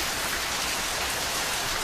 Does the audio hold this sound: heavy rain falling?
yes